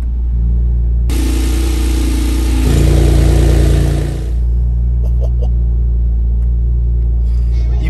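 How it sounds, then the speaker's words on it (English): A loud Techart 911 Turbo S engine rumbles at idle, then roars sharply for a few seconds with a raspy open exhaust in Sport Plus mode before settling back to a steady burble. "you put it in Sport Plus to open up the exhaust, which it definitely has done"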